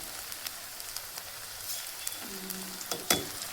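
Onion dropped into hot oil in a home kitchen sizzles and crackles faintly, with soft scattered pops and a brief stir-like clatter near the end.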